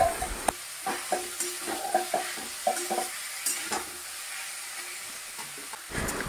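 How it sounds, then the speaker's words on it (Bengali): Marinated chicken frying in a little oil in a kadai, a soft continuous sizzle broken by repeated scraping and clacking stirring strokes, fairly close with no talking. "সামান্য তেল দিয়ে কড়াইয়ের মধ্যে আমি চিকেনটাকে এখন একটু ভেজে নেব"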